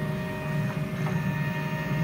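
A DTF printer runs its print head cleaning cycle, giving a steady, moderately loud mechanical hum with a faint tonal whine that holds unchanged throughout, with no talking.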